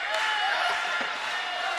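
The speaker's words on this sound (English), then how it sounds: "Crowd getting into it now." Dense crowd noise fills a high school basketball gym, a steady wash of cheering and murmur with faint scattered claps, loud and continuous throughout.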